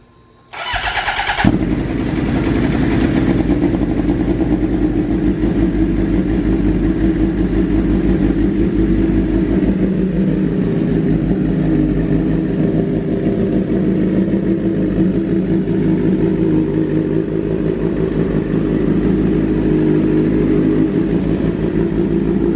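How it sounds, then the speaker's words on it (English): A 2015 Suzuki GSX-R 750 sport motorcycle engine cranks and fires up, then runs loudly and steadily at a rumbling idle, close by with no talking. "I just gotta kind of put that battery on the bike and it starts right up"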